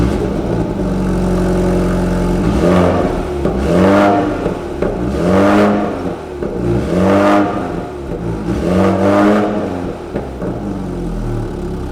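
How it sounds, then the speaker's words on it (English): A BMW F40 M135i fitted with a Remus Race exhaust and black titanium tailpipe, blipped through four loud, close revs that rise and fall in a steady cycle over a throbbing idle. "Guys also fitted the Remus Race system, so we'll do a few rev clips of that one"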